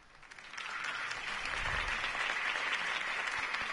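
A crowd applauding steadily in the Batman Telltale Series video game, a broad wash of clapping that swells within the first half second and then holds loud and even to the end.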